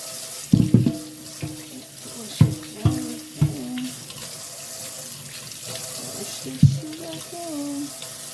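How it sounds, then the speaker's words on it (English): Raw sugar cane gets washed under a running kitchen tap, water streaming steadily into the sink with several louder splashes and knocks as the stalk is rubbed and turned, close and clear. "I'm going to wash this. Wash it. Wash it. Wash it."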